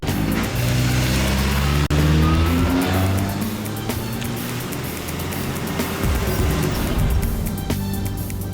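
A car engine roars and the vehicle speeds away, the loud revving sweeping upward in pitch before fading under steady background noise.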